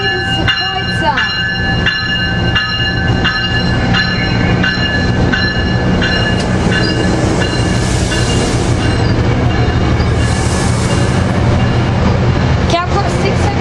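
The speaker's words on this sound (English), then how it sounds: "Here goes Metrolink train number 665 out of San Juan Capistrano." Metrolink commuter train 665 pulls out of San Juan Capistrano station in a quiet zone, its loud rumble and rhythmic wheel clatter rolling past close by with sustained tonal squeals, while a person talks over it.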